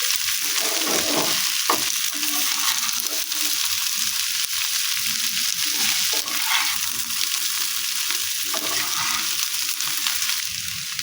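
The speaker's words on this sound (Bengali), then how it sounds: "এটাকে ভালো করে এর সঙ্গে মিশিয়ে ভেজে নিচ্ছি।" Drumstick flowers fry with chopped green chilies in a pan, sizzling steadily throughout while a spatula stirs and scrapes now and then.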